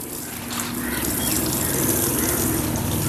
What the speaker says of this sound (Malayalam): കുറച്ച് വെള്ളം ഒഴിച്ച് കഴിയുമ്പോൾ ഇത് നല്ലതുപോലെ കുതിർന്ന് പൊടിഞ്ഞ് കിട്ടും